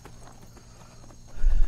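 Horse hooves in the Skyrim video game, a rapid clip-clop of gallop steps that grows into a louder thudding burst at the end.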